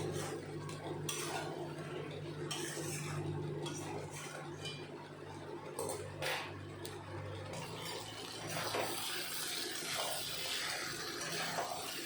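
A spoon scrapes and clinks against a pan while chicken pieces for chicken curry fry and get stirred, with irregular metallic scrapes over a low steady background hum.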